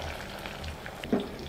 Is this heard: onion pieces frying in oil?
yes